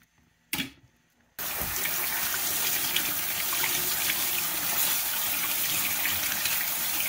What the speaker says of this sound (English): I'm gonna take it over to the sink and just clean it out